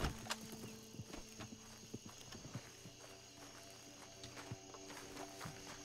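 Horses in Red Dead Redemption 2 clop with irregular hoofbeats and a whinny, faint and fairly close over a low game ambience.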